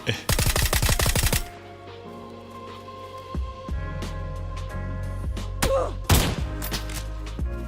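VSS rifle gunfire in the video game PUBG Mobile arrives as a rapid string of sharp, evenly spaced shots, then scattered single and double shots over game music and effects.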